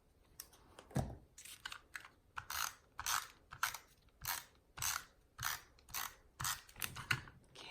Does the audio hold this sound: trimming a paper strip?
yes